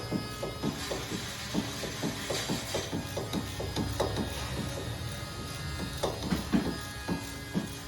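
A ratchet wrench works on the hub bolts of a 2013-2017 Dodge Dart during a wheel bearing replacement, making rapid clicking in short back-and-forth strokes. The clicks are close and steady, with a faint hum underneath.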